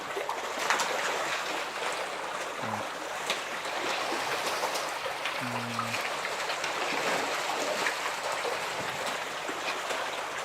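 Clean water flowing steadily at a school complex farm, a continuous broadband rush with no one speaking and a couple of brief low tonal bumps.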